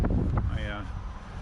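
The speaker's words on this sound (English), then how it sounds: "Unfortunately, once again, it's windy as shit." Strong wind buffets the microphone outdoors, a continuous low rumble and rush under a voice as he talks.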